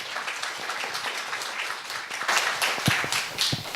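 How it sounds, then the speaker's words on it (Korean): An audience claps loudly and continuously as a guest speaker is welcomed onto the stage at a humanities and arts concert talk event. Dense, sustained applause fills the whole stretch, rising slightly toward the end. "큰 박수 부탁드리겠습니다."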